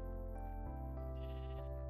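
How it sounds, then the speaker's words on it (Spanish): Minecraft sheep bleating in the video game, a single harmonic, wavering bleat that shifts pitch partway through, loud and alone. "Mira, maldita oveja, oveja arquero."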